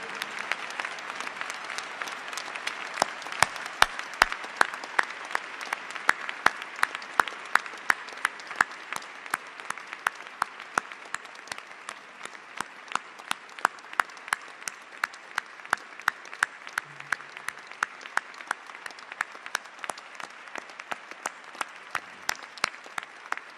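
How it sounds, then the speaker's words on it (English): A memorial celebration audience rises for a standing ovation, with sustained, dense clapping from a large crowd lasting over twenty seconds, steady and full with no talk over it. "give your mother a standing ovation and round of applause"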